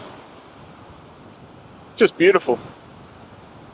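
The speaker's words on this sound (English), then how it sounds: "So sitting under here, looking at the waves" Steady surf of ocean waves washing onto the shore, a continuous broad wash heard while a person briefly speaks over it.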